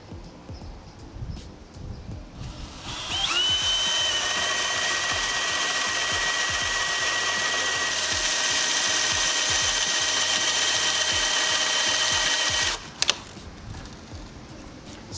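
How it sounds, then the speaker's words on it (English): Power drill driving an auger bit through maple wood at speed 1: a loud, steady motor whine and grinding bores continuously for about ten seconds, then stops abruptly, with quiet handling noises before and after. "Let's now run this auger bit through some maple."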